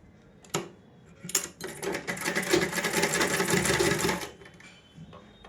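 An electric sewing machine stitches a seam on a plain frock. A few light clicks come first, then a single close, steady whirring burst of about two seconds winds down to quiet.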